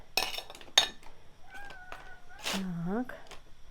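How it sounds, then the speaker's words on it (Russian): Cats meowing in a home kitchen, several distinct meows, one long falling yowl near the end, with light clinks of dishes and a person speaking nearby. "Ага, дверь открыли, и коты здесь."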